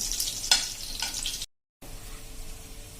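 Okra sizzles and crackles in hot oil, a steady hiss with a brief sharp burst of spatter, then a short silence before the frying resumes.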